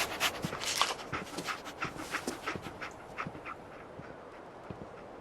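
Dogmeat, the dog companion in Fallout 4, pants rapidly and steadily up close, a quick rhythmic huffing that fades toward the end with no talking.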